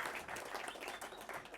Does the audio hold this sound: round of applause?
yes